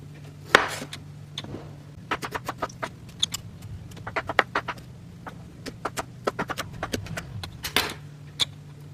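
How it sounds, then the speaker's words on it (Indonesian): A knife chopping boiled carrots into small pieces on a board, a run of quick, sharp, irregular taps close by, steady and alone without speech. "saya akan potong-potong kecil-kecil wortel yang telah direbus terlebih dahulu"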